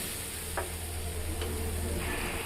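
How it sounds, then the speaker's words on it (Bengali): Cauliflower fries with spices in a pan while it is stirred, giving a steady close sizzle and hiss with a couple of faint scraping ticks from the stirring and no talking. "ফুলকপিগুলো মশলার সাথে ভালোভাবে নাড়াচাড়া করতে করতে ফুলকপিগুলো মশলার দ্বারা কষানো হয়ে গেল ভালোভাবে"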